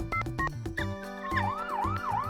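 An ambulance siren sound effect in a playful doll-hospital scene wails loudly in repeated rising and falling sweeps, preceded by a brief burst of bright, tonal cartoon-like notes.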